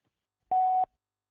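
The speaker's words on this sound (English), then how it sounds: "Oh, damn, that was a voicemail." A single short electronic beep at a steady pitch as a phone call reaches voicemail, lasting about a third of a second, clear and alone against silence.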